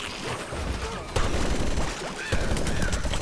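Rapid-fire BBQ Corn shots from Plants vs. Zombies Garden Warfare 2 crackle in quick bursts, with two sharper loud cracks standing out amid busy game noise and light talk.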